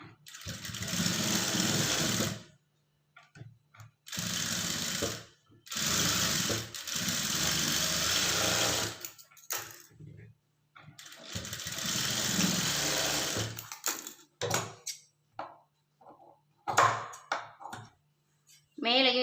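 A sewing machine runs straight stitches along folded blouse fabric in bursts of several seconds each, with pauses between runs and a few short stops and starts near the end.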